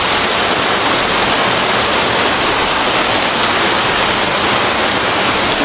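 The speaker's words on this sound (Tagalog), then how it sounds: "Oo, napakalaking sapa to." A large stream rushes with dense, loud, steady broadband water noise, close and unbroken throughout.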